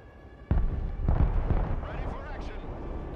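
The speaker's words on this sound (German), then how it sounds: "Die Rakete." A rocket explosion in the military strategy video game Broken Arrow, a sudden loud blast followed by rolling booms and debris rumble, with a voice talking over it.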